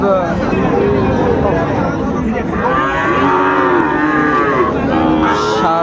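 A young bull calf moos loudly in drawn-out, wavering calls close by at a cattle market, while people talk and murmur in the background.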